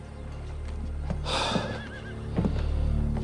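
A horse tied up on a street lets out a loud, wavering whinny nearby, with a steady low hum and a few faint thumps in the background.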